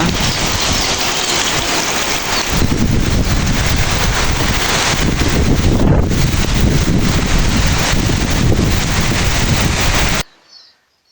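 Strong, roaring wind from Cyclone Remal buffets the microphone continuously for ten seconds, loud and gusty with heavy low rumble, then cuts off abruptly.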